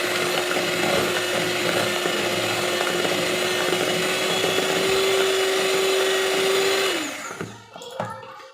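An electric hand mixer on its first speed beats brown and white sugar into brownie batter, a steady close whirring drone that holds for about seven seconds and then cuts off, followed by light clattering.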